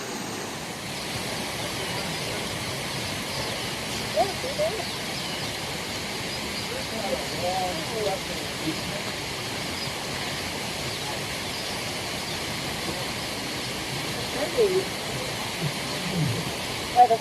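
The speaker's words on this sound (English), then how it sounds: "The waterfall in the vicinity." Water pours steadily over a waterfall on Edendale Creek near old bridge abutments, a constant broadband rush heard outdoors with faint people talking now and then.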